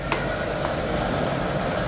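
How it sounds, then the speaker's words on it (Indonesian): Fried coconut milk snacks sizzle in hot oil, a dense, continuous crackling hiss close up with no voices. "Dan tinggal kalian goreng deh sampai matang atau crispy di luar"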